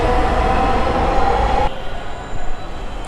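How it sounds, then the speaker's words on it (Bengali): Two metro trains on the Uttara line pass in opposite directions on either side of the platform, a loud continuous rumble with wheel squeal that drops off sharply midway as one train clears. "দুটি ট্রেন দুদিকে যাচ্ছে"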